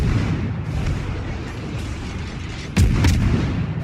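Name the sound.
warship guns firing AP shells in World of Warships video game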